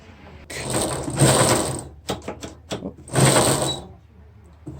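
Ratcheting, gear-like mechanical clicks as a vise grip is clamped down on a bolt on a mini-bike's brake cable, in two loud bursts with a few separate clicks between them, close and without talk.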